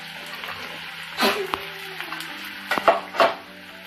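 Capsicum stir-frying with browned onions in a pan for chilli chicken dry, with a quiet sizzle under several sharp scraping stirs of a spatula against the pan.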